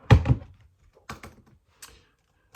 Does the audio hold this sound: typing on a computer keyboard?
yes